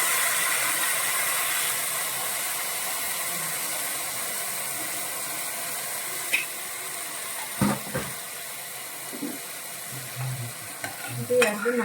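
Parippu payasam, a lentil pudding, being stirred in a pot after melted jaggery goes in: a steady soft bubbling hiss throughout, with a few scraping clunks of the spoon near the end.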